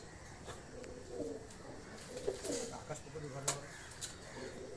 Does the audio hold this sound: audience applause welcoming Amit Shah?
no